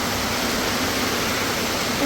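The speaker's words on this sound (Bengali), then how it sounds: "লাইটের দিক দিয়ে দেখেন কি পরিমাণে পড়তেছে বৃষ্টি" Heavy rain pouring down, a dense, steady hiss of broadband noise with no breaks across the whole short stretch, fairly loud and close.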